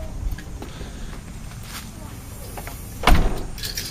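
A cottage's front door being handled, with a sharp bang of it closing near the end, over rustling, shuffling background noise and indistinct voices.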